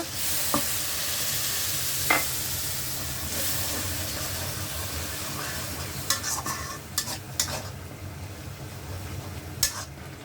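Spoon stirring and a steady sizzle in a pan after water is added to onion, bay leaf and ginger paste, with clattering knocks of the utensil scattered through a constant hissing bed.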